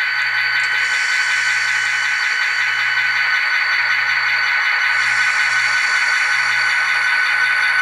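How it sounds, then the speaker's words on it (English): A model locomotive fitted with an ESU LokSound decoder plays its diesel prime mover sound, a steady droning hum with a low pulsing throb that holds constant and fairly loud throughout, with no talking. "The engine prime mover noise will still be there."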